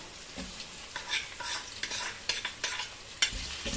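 Crushed shallots for a Kerala-style chicken curry frying in a pan, soft sizzle under irregular scraping stirs of a utensil, close and moderately quiet, no talk.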